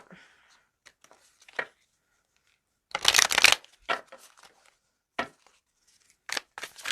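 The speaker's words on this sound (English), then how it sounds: "Let's shuffle these cards up." A deck of tarot cards is shuffled nearby in several bursts. A long riffling flurry sits in the middle of the clip, with short riffles and taps scattered before and after it. No voices.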